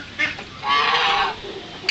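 Farm geese honk in a short burst, a couple of nasal calls close by over quiet background, no talking.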